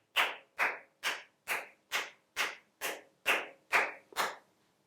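Ten evenly spaced bursts of clapping sound over about four seconds as an award winner is welcomed at an achievement day celebration, each loud crack fading quickly with no talking between them.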